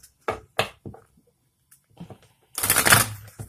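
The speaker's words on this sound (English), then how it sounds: "I'm going to go ahead and get straight into the shuffle." Brisk shuffling of oracle card decks in several short riffling bursts, then a longer, louder flurry of shuffling near the end, close and with no voices.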